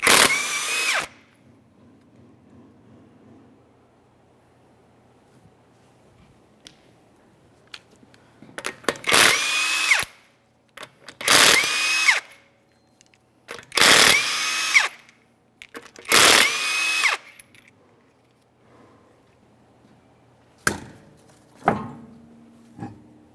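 An impact wrench on a Subaru Outback wheel, removing the locking lug nuts: several loud, short bursts of whirring and hammering, each a second or two long, separated by pauses with faint shop background.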